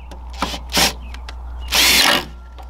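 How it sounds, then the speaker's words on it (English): A power drill drives screws into a small piece of wood in two loud whirring bursts, the second longer, with faint clicks and handling noises between them. "screw these screws onto the end"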